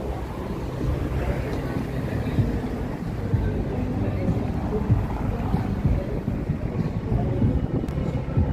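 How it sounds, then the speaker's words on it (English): A Wendella tour boat passes beneath a bridge on the Chicago River: a steady, low engine rumble and water churn, heavily buffeted by wind against the microphone, continuing without letup. "look at this Wendella boat coming underneath us here."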